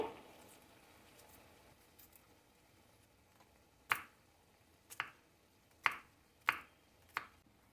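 A knife cuts through a lemon on a board in five sharp, distinct chops spaced roughly a second apart, each close and crisp against a quiet kitchen background without talking.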